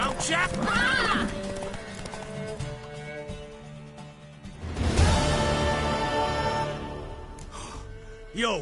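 A horse neighs and its hooves clop nearby, with a loud burst midway and another at the end, while people talk over a full, layered background.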